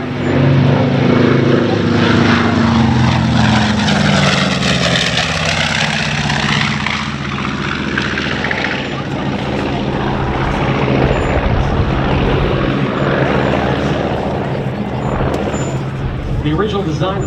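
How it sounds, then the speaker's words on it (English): A B-25J Mitchell bomber roars past at around 300 mph at an air show, its loud, steady propeller and engine drone rising and falling in pitch as it passes, with a commentator talking over it throughout. "Inbound again from the left, 300 miles an hour. Here's the B-25."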